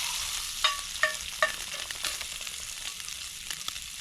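Bacon sizzling and spattering on a grill over a campfire outdoors, steady frying hiss with a few sharp pops and scraping stirs, close and clear with no talk.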